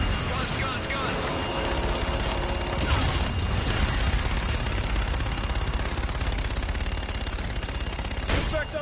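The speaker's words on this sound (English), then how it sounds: "Roger, inbound for gun run. Guns, guns, guns!" An aircraft gun run in the Call of Duty Infinite Warfare campaign mission Black Sky: rapid cannon fire rattles and booms continuously under loud engine roar, with a final burst near the end.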